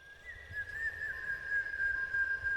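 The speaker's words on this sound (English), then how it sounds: "a whistle." A single clean, sustained whistle note from the trees in a dark forest, steady in pitch and holding for a couple of seconds over a low, rumbling background hush.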